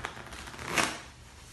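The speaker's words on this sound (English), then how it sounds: "I'm going to start by shuffling cards." A deck of playing cards is riffle-shuffled in one quick, close, soft purring flutter that swells and then fades, with no voices.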